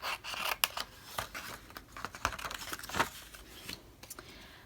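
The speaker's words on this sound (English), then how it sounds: "So I'll just start cutting." Scissors snip through stamped paper at a craft desk, trimming a small white edge around the design: a close, quiet run of irregular crisp cuts and rustling paper with no talking.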